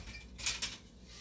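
Ingredients for a sourdough starter stirred together in a bowl, giving two short, close clinks and scrapes of a utensil against the dish within a quiet moment.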